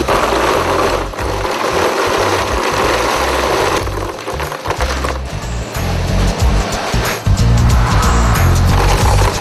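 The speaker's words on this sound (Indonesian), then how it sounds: "Tiriskan stik kentang dalam mesin. Jadi benar-benar kering tanpa sisa minyak." A spinning machine drains oil from freshly fried potato sticks, giving off a loud, steady mechanical whir and rattle that holds for several seconds with slight surges.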